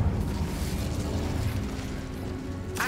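Incendio fire spell cast in the video game Hogwarts Legacy: a dense, rumbling whoosh of flame that holds steady for about three seconds, then a brief bright crackle near the end, with no talking.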